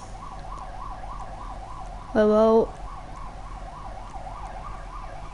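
Ambulance siren in the video game GTA 5, a short loud warbling burst that rises over steady game music and engine hum, with someone talking around it.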